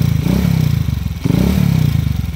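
A Honda TMX155 motorcycle engine runs close by with a steady, loud, pulsing single-cylinder chug, broken by a brief dip midway before it continues.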